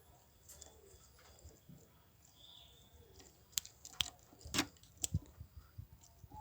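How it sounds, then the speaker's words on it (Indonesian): Local zebra doves (perkutut) in an outdoor aviary with many birds around, their faint soft coos mixed with scattered sharp clicks and rustles in a quiet, low-level background. "Ini prakutut lokal yang belum jadi. Itu juga hampir sekeliling banyak prakutut."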